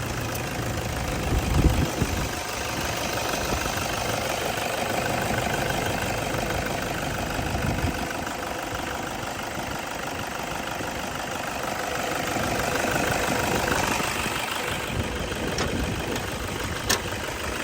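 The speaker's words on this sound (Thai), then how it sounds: "การทำงานของเครื่องยนต์นะครับจะให้ฟังเสียง" A 2007 Toyota Vigo 2.5 E diesel engine idles steadily up close, a continuous loud clattering rumble with a faint knocking rhythm that runs unbroken throughout with no voices.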